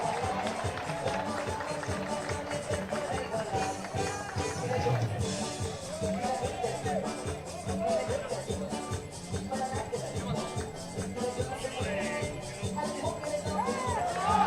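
A loud, steady roar from the crowd fills a 3x3 basketball arena at the FIBA 3x3 AmeriCup 2025, with continuous cheering and court noise throughout and talk running under it.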